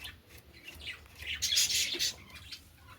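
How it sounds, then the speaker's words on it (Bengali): Pet budgerigars kept at home give high, rapid chirps and twittering that swell in the middle and then ease off, fairly close with faint background noise. "আমার বাড়িতে অনেকগুলো পাখি আছে, জানেন তো, বদ্রিকা পাখি"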